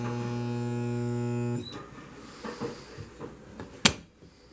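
A homemade spot welder works on very thin sheet metal, giving a loud, steady electrical buzz for about a second and a half. It then stops, followed by a few quiet clicks and one sharp knock nearby, with no talk.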